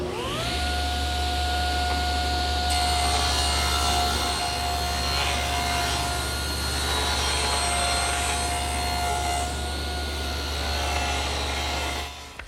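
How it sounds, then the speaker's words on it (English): A table saw spins up and rips along the edge of a rough-milled wood board guided by the fence, a loud steady whine with a dense cutting roar under it, then winding down at the end. "Now I'm going to move the fence about 1/8 of an inch closer to the blade, turn them end for end, and run the other edge through."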